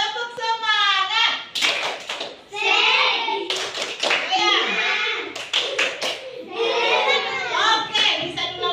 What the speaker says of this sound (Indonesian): Tepuk semangat. Bisa? Kita ulang lagi ya. Tepuk semangat.